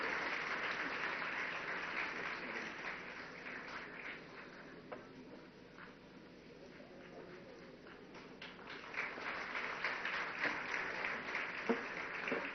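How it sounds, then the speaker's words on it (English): Sustained audience applause for a guest at an afternoon event at NEIAH in Shillong, steady dense clapping that swells again toward the end with no speech over it. "Ladies and gentlemen, you should continue to applaud for our wonderful guest this afternoon."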